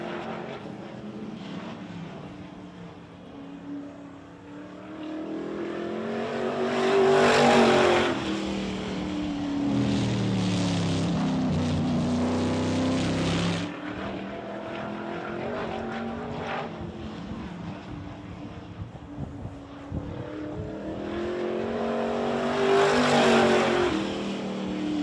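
An IMCA Modified race car roars around a speedway, its engine swelling loud twice as it passes close and receding to a distant drone between passes, with no talk over it.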